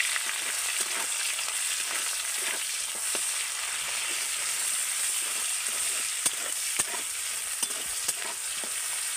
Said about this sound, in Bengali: পেঁয়াজটাকে তেলের সাথে ভালো করে ভেজে নেব